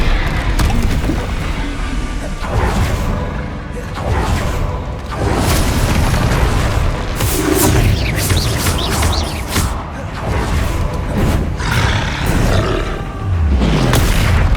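Confringo blasting spells going off in Hogwarts Legacy combat: loud, dense booms and roaring blasts pile up with whooshes and crashes through nearly fifteen seconds of constant battle noise.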